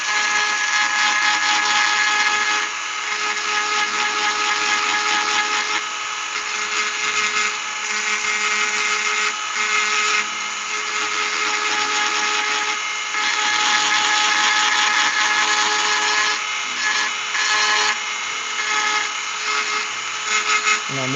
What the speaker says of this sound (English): I guess I can grind one while I'm here